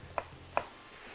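Two crisp knife chops through waxy potatoes on a board, spaced about a third of a second apart, quiet and close with a faint background hum.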